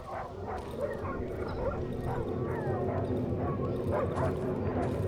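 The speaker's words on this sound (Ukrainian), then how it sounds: "Десь собака скавчить" A dog whimpers and yips somewhere in the dark woods of the horror game Darkwood, thin high whines recurring over a steady low ambient rumble at moderate distance.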